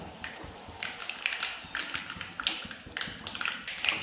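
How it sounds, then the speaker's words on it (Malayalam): Mustard seeds pop in hot oil for a Kerala-style breakfast, making a quick, scattered crackle of sharp little bursts close up. "കടുകൊന്ന് പൊട്ടി തുടങ്ങിയിട്ടുണ്ടേ"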